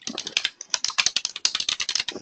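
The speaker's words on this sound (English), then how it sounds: "So I'll go ahead and start typing in referral agreement." Fingers type quickly on a computer keyboard, with close, crisp keystrokes clicking in rapid uneven bursts and a brief pause near the middle.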